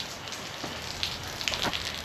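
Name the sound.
heavy rain pouring outside the shop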